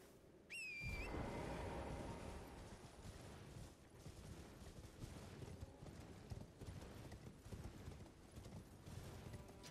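A horse gallops in the Elden Ring video game, with steady rhythmic hoofbeats running continuously under game ambience. A brief whistle-like tone sounds right at the start.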